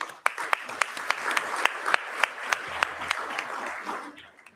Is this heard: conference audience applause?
yes